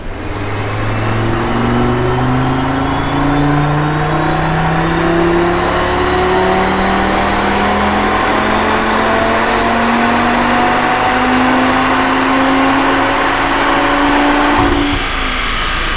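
A new Audi RS3's engine revs hard on a dyno in one long, loud, steady pull, its pitch climbing smoothly for about fifteen seconds before cutting off abruptly near the end.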